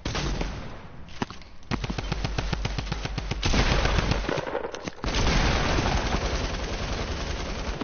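Rapid automatic gunfire from a multiplayer video game, with long bursts of evenly spaced shots, brief pauses, then dense continuous firing that stays loud and close.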